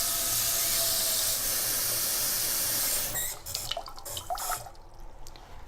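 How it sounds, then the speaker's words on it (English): Tap water runs in a steady hiss into a cooking pot on a home stovetop. The flow then stops, and a few clanks, drips and handling sounds follow close by, with no talk. "I'm going to get this pot going with some water in it"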